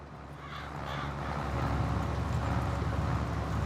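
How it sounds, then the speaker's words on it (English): Crows caw in short repeated calls at a distance on a farm field, faint against a steady low rumble of engine or machinery noise that grows slightly louder. "Can hear the crows clear as day"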